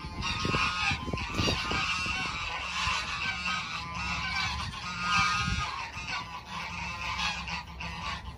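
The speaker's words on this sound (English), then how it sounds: "I can't really get a word in with those geese yelling in the background" Geese honk loudly and repeatedly on an alpaca farm, a dense, continuous chorus of overlapping calls that fills the whole stretch without pause.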